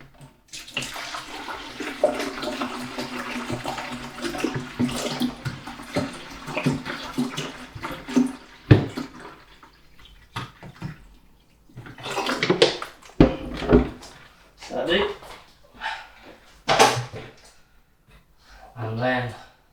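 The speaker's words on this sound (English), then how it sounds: "So I'm going to put about 2 litres of water into my mixing jug." About two litres of water run into a home-brew mixing jug as a long steady pour, followed by intermittent splashes and clinks, with a person talking throughout.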